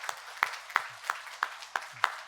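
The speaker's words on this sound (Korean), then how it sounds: "우리 박수합시다." A church congregation clapping during a Sunday service, heard as a slow, even run of seven distinct claps spaced about a third of a second apart, fairly quiet.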